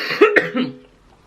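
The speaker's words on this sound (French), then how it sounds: "Je tousse toujours, mais plus comme avant." A few rough, close coughs in quick succession from a person recovering from the flu, loud and brief, trailing off into quiet.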